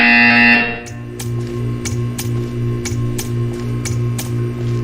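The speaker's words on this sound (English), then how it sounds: "When you hear the buzzer, stare at the art." Buzzer in the video game Portal 2, a harsh electronic tone that stops abruptly, followed by a quieter pulsing hum with regular ticking clicks.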